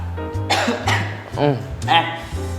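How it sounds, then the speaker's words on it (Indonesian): A person in a doctor's consultation coughs hoarsely several times in close, loud bursts, with voiced rasping between the coughs. "ini batuk-batuk ini dok"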